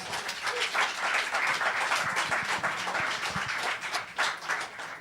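A church congregation applauds during a Spanish-language discipleship class, a dense, steady wash of clapping at moderate level with a few voices mixed in, lasting throughout.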